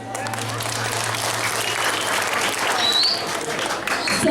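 A crowd at a coupon prize draw with traditional dance entertainment applauds steadily, a dense, continuous clapping filling the space with faint crowd murmur beneath.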